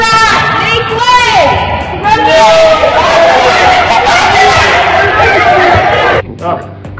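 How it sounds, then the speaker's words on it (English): Crowd at a high school reunion entrance chatters in a loud, close babble of many overlapping voices, with shrill whistling or whooping tones rising over it before it drops off near the end. "Crazy crowd in there."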